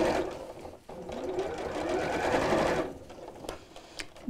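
A sewing machine stitches steadily around a tube of fabric slipped over its free arm, a continuous close whirring for about three seconds that stops, followed by a few light clicks and handling noises.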